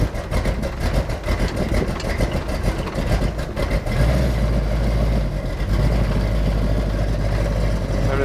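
Rough, uneven car engine idle with a tight torque converter, loud and close, a heavy low rumble that sags and lurches as if about to stall, with revving bursts in the first half.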